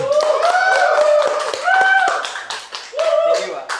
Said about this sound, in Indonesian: Aplaus dulu buat Mas Yoga.